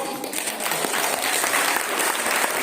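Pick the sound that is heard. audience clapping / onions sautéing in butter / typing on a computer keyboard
audience clapping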